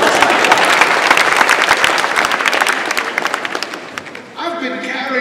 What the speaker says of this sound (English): Thank you for the big hand clap.